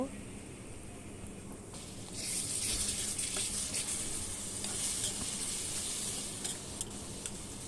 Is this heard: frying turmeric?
yes